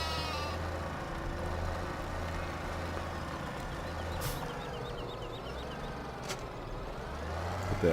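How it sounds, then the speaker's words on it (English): Sheep bleat in Farming Simulator 17, several short wavering calls over a steady low engine drone of farm machinery, with a couple of brief clicks along the way. "Yeah, the sheep should be fine for now."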